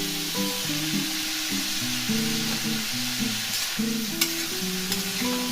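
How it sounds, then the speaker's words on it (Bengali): Carrots and beans frying in a pan for fried rice, with cauliflower added, make a steady sizzle under a faint background melody, and a few light stirring clinks sound near the end. "2 মিনিট গাজর আর বিনসটা ভাজার পর ফুলকপিগুলো দিয়ে দিচ্ছি।"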